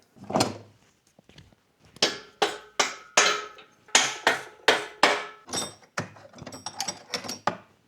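Repeated sharp metallic hammer blows on a Honda Civic part, close and loud, about a dozen strikes in an uneven rhythm with brief pauses between bursts.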